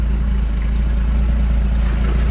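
A 1981 Ford Bronco's 300 inline-six idles steadily through newly fitted side-exit exhaust, a close, even low rumble with a rhythmic pulse and no voices.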